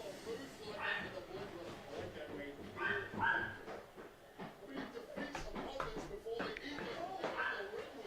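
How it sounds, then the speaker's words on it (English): A few dogs bark and yip intermittently in the background while people talk over them. "I heard some barking."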